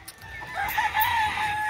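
A fighting rooster lets out a single crow, rising and wavering, at moderate distance over a low background hum.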